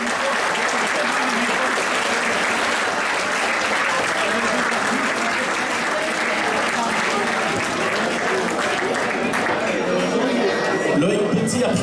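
A gathered audience applauds warmly for nearly twelve seconds at a community ceremony tied to the Marche Sainte-Rolende in Gerpinnes: dense, steady clapping with crowd murmur mixed in, fairly loud and sustained throughout.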